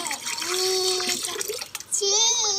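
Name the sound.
child splashing water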